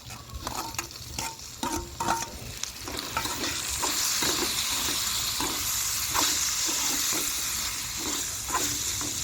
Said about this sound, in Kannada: ಅವರೆಕಾಳು ಹಾಕವ ಈಗ ಚೆನ್ನಾಗಿ ಸ್ವಲ್ಪ ಎಣ್ಣೆಲಿ ಉರಿಬೇಕು